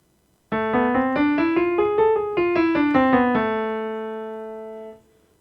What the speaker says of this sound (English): That is a harmonic minor scale,